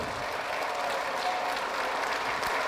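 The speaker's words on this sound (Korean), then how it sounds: "박수 한번 쳐주세요, 그분한테." A crowd at a political rally hall applauds steadily, a dense and even wash of clapping held at a moderate level with no speech over it.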